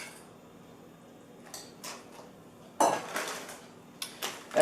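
Frozen crab meat goes into a hot pot of seafood gumbo amid a few sharp metallic clanks and clatters of utensils against the pot, separated by quiet gaps.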